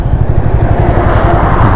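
A car approaches and passes close by on a wet, potholed road in heavy rain, its tyres hissing on the water with a steady, loud whoosh throughout.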